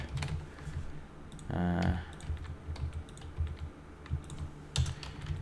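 Typing C# code on a computer keyboard, a steady run of close, moderately loud key clicks with brief uneven pauses.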